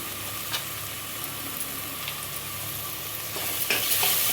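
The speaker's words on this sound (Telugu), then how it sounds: "అప్పుడు మనం దీంట్లో పసుపు కూడా వేసేసుకొని టమాటా వేసేసుకుందాం." Ginger and garlic fry in a hot pan while turmeric and tomato are stirred in for a chole curry, giving a steady close sizzle broken by scraping stir strokes, with no talking.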